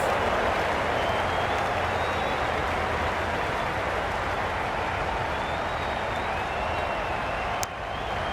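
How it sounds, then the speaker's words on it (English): Stadium crowd in the Cricket 22 video game: a dense, steady roar of crowd noise that stays loud and unbroken, with a brief sharp click near the end. "The crowd are really getting quite raucous."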